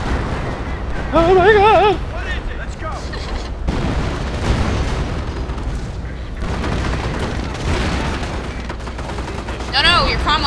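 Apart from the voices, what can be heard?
creeping artillery barrage in a WWII video game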